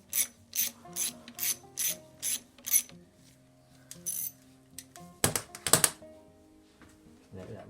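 Ratchet working on a bolt of a Honda VF750F motorcycle engine during teardown: a run of about six rapid clicking bursts, then a pause and a second louder, rougher burst of ratcheting, close and clear with no talk.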